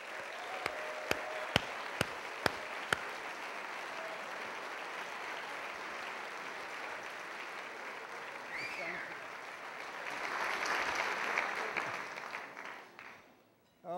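An audience at a formal award dinner applauds to welcome a speaker to the stage, a broad, sustained wash of clapping from a large crowd that swells toward the end before fading, with a few sharp clicks near the start.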